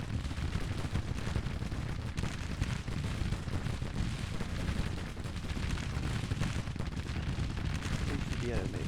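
Dense, continuous rumbling artillery fire fills a Civil War strategy video game battle, with booms and crackling gunfire blending into a loud, unbroken roar.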